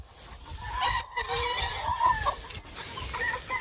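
Chickens of several breeds and a rooster on a farm cluck and call at moderate distance, with a brief crow-like cry among the soft, scattered clucking.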